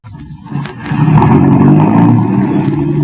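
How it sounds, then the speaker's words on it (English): A car driving off in a 1937 radio drama sound effect, the engine starting low then swelling into a loud steady revving drone that holds to the end, muffled and band-limited like an old broadcast. "That car's turning in at that estate."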